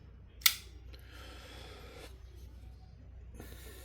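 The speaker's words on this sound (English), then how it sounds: "Let's get that blade out." An XTOUC GK22D folding knife with green micarta handle scales snaps its blade open in one sharp, close click, followed by quiet handling rustle.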